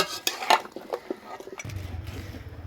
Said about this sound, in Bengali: আদা রসুন বাটা, সবকিছু ভালো মতো দিয়ে পরিমাণ মতো দিয়ে মানে একটু নেড়ে চেড়ে দিতে হইব